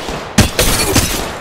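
Gunfire in the video game Apex Legends, played on an iPad, comes as several loud, sharp bursts of shots in quick succession, close and punchy, with no talking.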